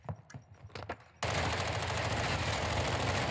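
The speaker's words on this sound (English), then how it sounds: "There's all shooting everywhere, bro." Heavy video-game gunfire erupts after a second of sparse scattered shots, then runs as a dense, continuous, loud wall of shooting to the end.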